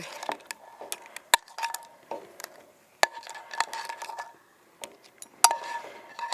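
Crab claws are spooned onto a warmed serving dish, giving sparse, sharp metallic clinks and taps of a spoon against crockery with quiet gaps between them.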